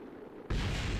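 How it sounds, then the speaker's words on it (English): Quiet hum, then a sudden loud explosion from a spacecraft re-entry in the video game Kerbal Space Program bursts in and keeps roaring with heavy, rumbling low end. "There's so many explosions."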